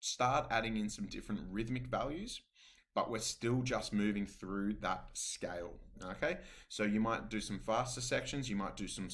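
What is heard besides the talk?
None of the usual background noises is heard.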